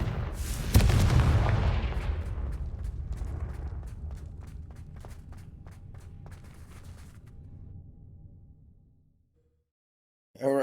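A Confringo blasting spell from the video game Hogwarts Legacy erupts in one loud, booming explosion, followed by a long rumbling, crackling decay that fades to silence before a brief noise at the very end.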